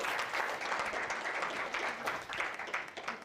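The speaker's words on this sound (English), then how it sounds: "I think we give a round of applause for that." An audience at a chamber of commerce luncheon applauds, many hands clapping in a dense, sustained patter at moderate volume that holds steady throughout with no speech.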